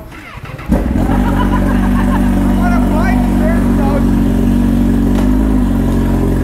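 A Honda CB1000 motorcycle engine fires up loudly after a short pause and settles into a strong, steady running rumble close by as the bike rides off, with light revving.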